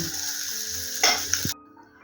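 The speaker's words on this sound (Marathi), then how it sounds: "तर बघा फ्राय झाले आहेत मंडळी" Mandeli fish fry on a pan, crackling with a close, steady sizzle and a few stirring scrapes before the sound cuts off abruptly after about a second and a half.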